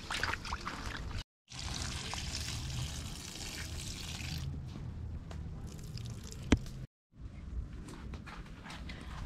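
Chicken feet being rinsed in water give off a steady close wet swishing and squishing, with trickling and pouring sounds and two brief cuts in the sound.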